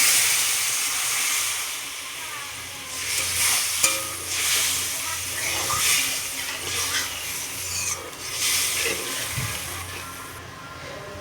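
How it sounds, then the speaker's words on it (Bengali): Water poured onto a fried spice paste in a hot pan, giving a steady loud sizzle with stirring and scraping throughout, no talk. "এবার আমি জল দিয়ে দেব।"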